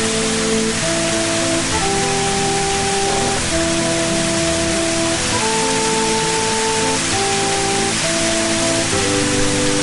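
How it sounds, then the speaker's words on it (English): Kariong Falls, a creek waterfall at the bottom of a steep bush track, pours with a loud, steady, broadband roar that does not let up, with a faint tonal hum running underneath. "there we see the beautiful Kariong Falls"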